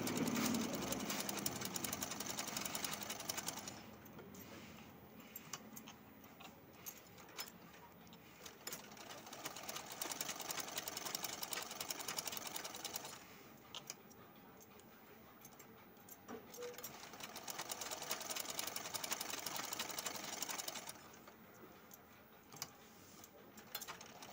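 A sewing machine stitching fabric for a hand design, its motor running in long bursts of rapid mechanical chatter that pause and restart, fairly quiet and close, no talking.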